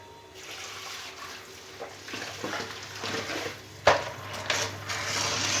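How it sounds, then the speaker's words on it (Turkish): Water from freshly washed food being drained off in a home kitchen, a soft steady trickle and splash with light clinks of a pot or strainer and one sharper knock, close by with no talk. "Bu arada hemen şöyle suyunu süzüyorum"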